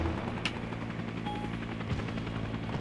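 Helicopter landing in the Arma 3 SOG Prairie Fire Vietnam War game, a steady rotor drone with low harmonic hum running throughout at moderate level, with a brief sharp crack early on.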